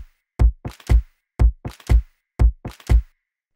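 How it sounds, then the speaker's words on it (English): Layered organic hand claps in a downtempo electronica track sound in pairs of sharp, loud hits with short ambient tails, three groups of alternating strokes spread evenly across the stretch with no voice. "We have to add the organic claps before this clap sound as well"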